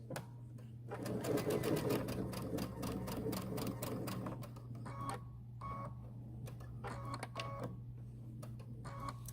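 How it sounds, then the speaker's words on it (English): A sewing machine stitches the closed ends of a half apron in quick, steady bursts of rapid mechanical ticking over a constant motor hum, heard alone with short pauses between runs. "So we're going to stitch our ends closed."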